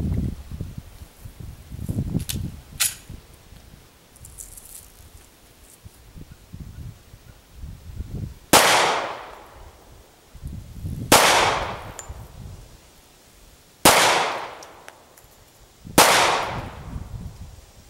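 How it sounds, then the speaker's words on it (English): Springfield XDS pistol fired outdoors at steel plates, four sharp loud reports spaced a few seconds apart, each with a ringing clang and a long decaying echo, after quieter handling and rustling. "I'm going to move down and shoot a few plates."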